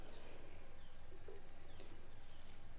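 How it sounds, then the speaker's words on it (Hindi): Water poured over fertilizer at the base of a tomato plant, a soft steady pour and trickle with a faint splash midway, quiet and continuous throughout. "ये पानी ऊपर हम दे देंगे पानी दोस्तों नीचे ये रिस के ये चला जाएगा"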